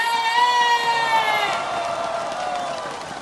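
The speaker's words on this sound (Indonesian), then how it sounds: "Tepuk tangan yang paling meriah untuk Bapak SB." A crowd at an evening event in Indonesia cheers, whoops and shouts for Susilo Bambang Yudhoyono, a loud, dense wall of voices that is strongest at the start and eases off slightly toward the end.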